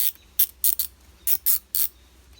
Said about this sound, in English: ratcheting mechanism. Real tight. There's not a whole lot of play.